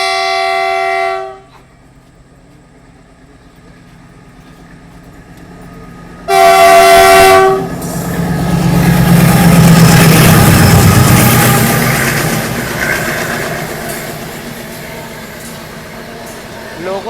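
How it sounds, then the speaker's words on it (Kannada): An express train on the Bidar to Bengaluru line, near the Telangana–Karnataka border, sounds two loud horn blasts, then roars past at full speed with a swelling rush of wheels and wind that slowly fades. "ಯಾವುದೋ ಟ್ರೈನ್ ಫುಲ್ ಸ್ಪೀಡಿಂದ ಬರತೈತೆ ರೀ."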